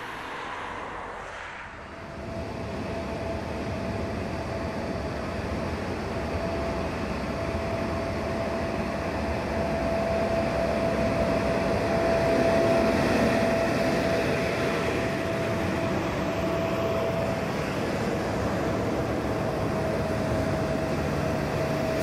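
Swiss green Crocodile electric locomotives pull a train at a celebratory parade, giving a steady rumbling roll with a sustained whine that swells gradually and holds throughout.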